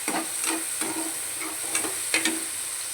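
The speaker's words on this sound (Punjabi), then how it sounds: "ਟਮਾਟਰ ਨੂੰ ਵੀ ਆਪਾਂ ਨਰਮ ਹੋਣ ਤੱਕ ਪਕਾਵਾਂਗੇ" Tomatoes softening in a pan for masala macaroni sizzle with a steady background hiss, while a spoon scrapes and stirs in repeated short strokes close by.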